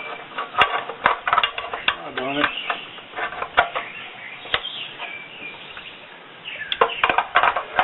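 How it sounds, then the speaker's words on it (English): A handset plug pushed into a UK Telephone Set D Mark V field phone, a series of close, sharp plastic clicks and rattling knocks with scraping handling noises in between. "Handset plug, and it just plugs right in here."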